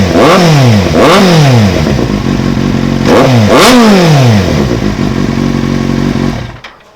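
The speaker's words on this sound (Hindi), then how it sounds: "आपको SC प्रोजेक्ट ओरिजिनल की आवाज़ सुनाता हूँ मैं कि Z800 में SC की आवाज़ कैसी आती है।" Kawasaki Z800 fitted with an original SC Project exhaust, revved hard in repeated sweeping bursts, two pairs of sharp rises and falls, loud and close, then cut off abruptly near the end.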